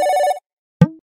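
A mobile phone rings in a short electronic trill that stops abruptly, followed after a brief silence by a single loud clunk or tone; no one talks over it.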